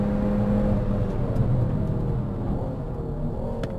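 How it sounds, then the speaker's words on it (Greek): Inside a Peugeot 308 GTi by Peugeot Sport with its small, big-turbo engine on the Serres Circuit, a steady loud engine drone and whir holds throughout, with slight shifts in pitch. "Το μοτέρ, παρότι μικρό και προφανώς έχει μεγάλη τουρμπίνα για να βγάζει τόση δύναμη, έχει καλή απόκριση."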